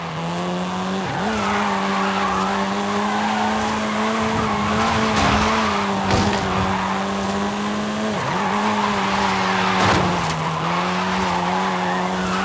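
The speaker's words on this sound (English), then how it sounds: "This version is the Volkswagen Golf R, R meaning race." A Volkswagen Golf R, 7th generation, in Forza Horizon 5 drives with a steady engine drone and long stretches of tyre squeal as it skids through corners.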